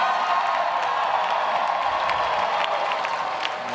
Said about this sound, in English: And he's lapping up the applause